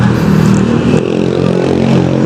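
A KTM motorcycle engine revving loud and close at a KTM dealership in Cubao, a dense continuous roar that dips briefly and then holds steady.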